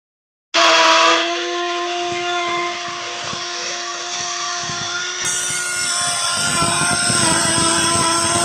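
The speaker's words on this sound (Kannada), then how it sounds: "ಸ್ಮೂದಿ ಮೇಕರ್ ಒಳಗೆ ಚೆಂದಾಗಿ ಮಿಕ್ಸಿ ಮಾಡ್ಕೊಂಡಿನಿ ನೋಡ್ರಿ" A smoothie-maker blender motor kicks on abruptly and runs at a steady, loud whir, its pitch shifting slightly partway through.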